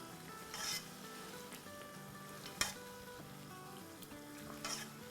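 Mutton pieces with stock are stirred in a pot, a low steady sizzle broken by soft scrapes and an occasional sharp clank of the spoon against the metal.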